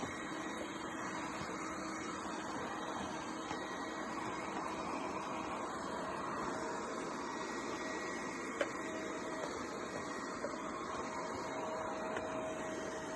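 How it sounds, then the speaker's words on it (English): A Bosch BBHMOVE4 cordless stick vacuum cleaner hums steadily at close range, a constant whirring drone with no breaks throughout, while its brush roll has stopped spinning. "as you can see, the vacuum is running, but no spinning is done on this brush"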